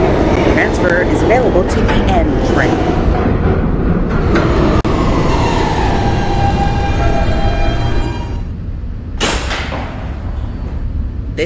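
An R160B Siemens subway train in the Roblox game rolls along with a dense, steady rumble and rising whine, then quietens after about eight seconds as the motor noise drops away, with a brief burst near the end.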